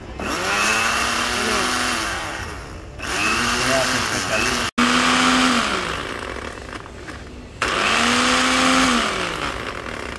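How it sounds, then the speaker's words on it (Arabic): A Media Tech hand blender whirs loudly in bursts, its motor pitch rising and dipping as it runs, with brief pauses between bursts, close up. "هنجرب الهاند بلندر اللي هوريه لكم دلوقتي"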